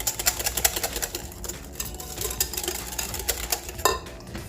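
Coconut macaroon batter being stirred with a utensil in a bowl, giving a close run of quick clattering scrapes and taps against the sides, steady and busy throughout with no talking.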